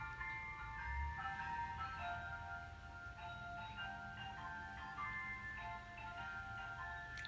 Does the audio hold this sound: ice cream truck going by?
yes